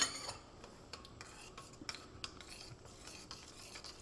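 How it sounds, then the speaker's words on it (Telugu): A ladle stirs fenugreek buttermilk seasoning, giving quiet scraping and clinking strokes in an uneven rhythm, close and faint with no voices. "చక్కగా గరిటతోటి మనం ఇంకొకసారి ఇటు ఇటు కలిపేస్తే అన్నీ"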